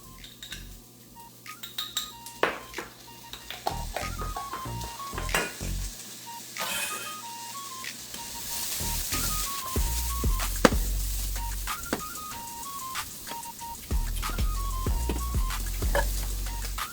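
Garlic fries in a pan, giving a soft sizzle beneath clinks of a utensil stirring against the pan, with a few louder scrapes and a low hum in the background.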